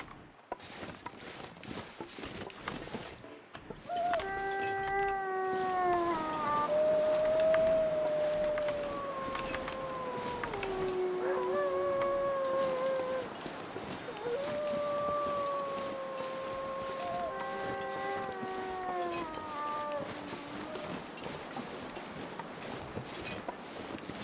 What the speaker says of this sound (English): Sounds like some wolves.